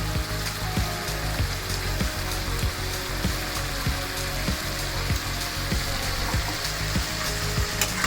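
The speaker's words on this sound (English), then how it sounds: "Now we are going to add the rest of the spice that we have prepared." Mutton kasha fries hard in a pan as spices go in, a dense, loud, continuous sizzle with regular soft scrapes of stirring running through it, close up and with no voices.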